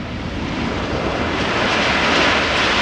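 A loud, steady roar of an airliner landing at Amsterdam Schiphol Airport, broad and continuous for the whole stretch with no talking.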